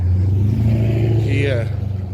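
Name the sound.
car passing by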